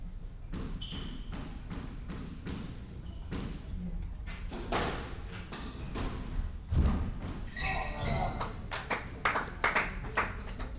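Squash ball cracking off rackets and walls in a professional match, a string of sharp thuds and taps in an irregular rally rhythm over steady crowd murmur, close and fairly clear.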